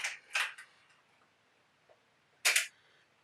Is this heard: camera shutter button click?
yes